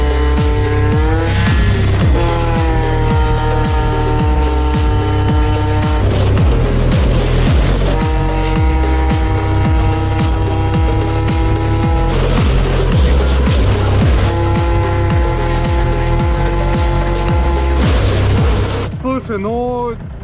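Talaria TL4000 electric bike and Yamaha BWS scooter racing side by side, a loud continuous motor whine and engine drone with rising and falling tones for most of the run, then cutting off near the end.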